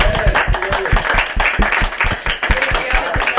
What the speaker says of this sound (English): Round of applause for Mr. Lilly.